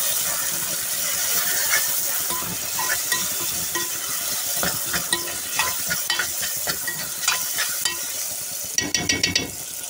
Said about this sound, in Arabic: قلبنا القوانص مع البصله والتوابل حوالي 10 دقايق